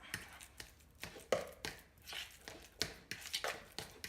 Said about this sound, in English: So now I'm just gonna use a fork and smush it up